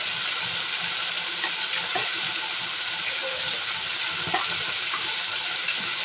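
Ground turmeric, coriander, cumin and chili spices sautéing in a pan for a chicken curry, giving a steady close sizzling hiss with faint scrapes of stirring throughout.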